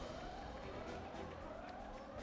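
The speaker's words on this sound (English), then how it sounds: "Siren means it's time for emergency assembly." Emergency assembly siren in Xenoblade Chronicles 3, a steady wailing tone sustained at moderate loudness over a dense background.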